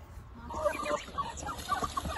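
Backyard chickens from a mixed farm flock of ducks and hens cluck in short, repeated calls at close range, overlapping one another against a low outdoor background.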